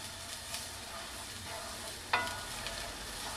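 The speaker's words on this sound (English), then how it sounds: "you can hear the beginnings of the sizzling" Half a pound of hamburger meat for croquettes sizzles steadily in a pan, a constant hiss with a couple of sharp pops and crackles breaking through.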